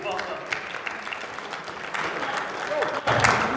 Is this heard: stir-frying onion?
no